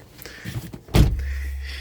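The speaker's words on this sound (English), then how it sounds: "when we step into the car, it's got a nice heavy door." The heavy door of a two-door VW Cabrio convertible swings shut with a single solid, close thud, preceded by light rustling and followed by a low lingering rumble.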